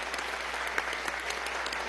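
Applause during a session of Venezuela's National Assembly, a steady, soft patter of many hands clapping, distant and fairly faint, with a low hum underneath.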